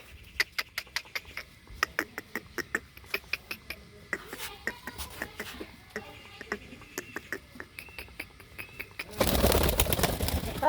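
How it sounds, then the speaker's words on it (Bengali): Pigeons at a pigeon loft coo in a steady pulsing rhythm of soft repeated calls, close by, with faint scuffling; a burst of broadband noise like flapping wings or handling fills the final second. "এই যে পায়রা"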